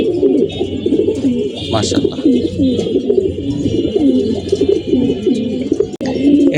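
Female pigeons in a loft coo in a steady, overlapping low rolling murmur, close and fairly loud, with someone briefly speaking over them.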